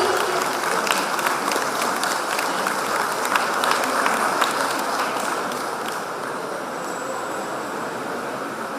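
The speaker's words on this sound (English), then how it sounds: "May I request a round of applause from our audience team?" A conference audience applauds steadily after a felicitation, a broad even wash of clapping that gradually softens toward the end.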